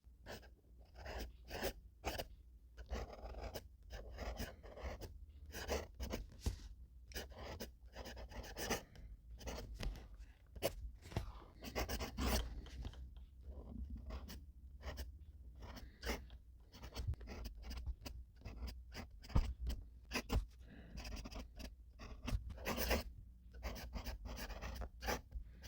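A fountain pen scratches across paper in short, quick strokes with tiny pauses, close but very quiet, continuing steadily for about twenty-five seconds.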